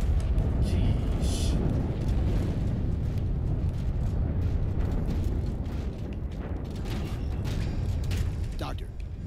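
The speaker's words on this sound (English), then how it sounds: "The Covenant shot down the first evac shuttle." Evac shuttle shot down by the Covenant in Halo 4, heard as a heavy, sustained rumbling explosion with creaking, grinding debris, loud and close, slowly fading.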